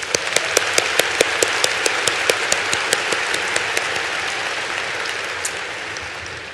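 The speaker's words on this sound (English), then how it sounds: "Let's give them all a round of applause." An audience applauds at a fall university commencement ceremony in Colorado Springs. A broad, continuous wash of clapping runs throughout, with distinct sharp claps standing out, and no voices on top.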